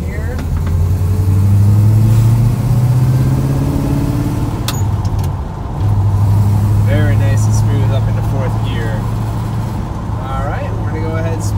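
A 1957 Chevrolet Bel Air with a manual gearbox drives along, its engine droning steadily up close with a brief dip as it shifts gears, and people talk faintly over the running engine.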